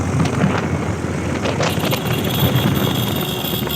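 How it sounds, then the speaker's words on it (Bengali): Strong, cold wind on a high mountain road near Dim Pahar, Thanchi, Bandarban, roars as constant loud buffeting against the microphone, without a pause. "প্রচন্ড ঠান্ডা বাতাস লাগতেছে।"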